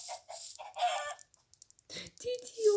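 Chickens cluck in a run of short, close bursts, with a brief voice near the end.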